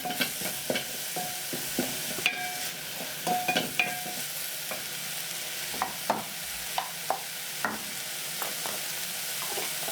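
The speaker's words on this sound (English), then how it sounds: "So I'm going to sweat the onions just a little bit." Onions sweating in a pan with salt for a sweet tomato sauce, a steady soft sizzle broken by frequent sharp clinks and scrapes of a spoon stirring against the pan, close and with no talking.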